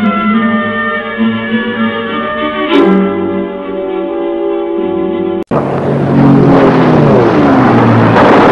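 Scene from the 1933 King Kong film in which airplanes attack the giant ape atop the Empire State Building: loud droning propeller engines with shifting pitch, one abrupt cut, then a rougher, swooping engine roar.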